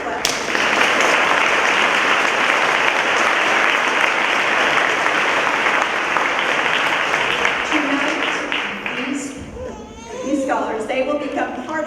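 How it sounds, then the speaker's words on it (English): At a 2019 senior awards ceremony, an audience breaks into loud, sustained applause that fills the hall before thinning out, with voices and a small child's cries emerging near the end. "that's worth the clap"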